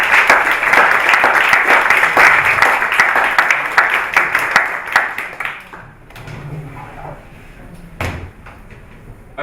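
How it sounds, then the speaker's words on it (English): Audience applause for a speaker at a talk event, dense steady clapping that fills most of the clip before thinning out into scattered claps and quieter room noise toward the end. "So will you please big round of applause"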